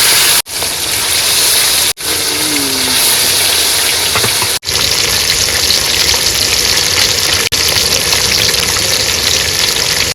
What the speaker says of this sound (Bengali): মাছ ভাজা হয়ে গেছে প্রথমবার তুলে নেবো